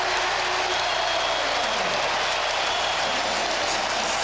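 A basketball arena crowd at a Knicks versus Heat Eastern Conference semifinal roars and applauds after a score, a dense, steady wash of cheering and clapping throughout.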